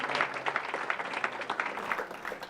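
An audience claps at a talk on teaching agile project management, a brief, quick burst of many hands, moderately distant, with no one speaking over it.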